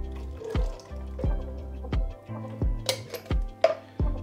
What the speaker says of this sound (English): and then I'm going to add in the chickpeas, including the water.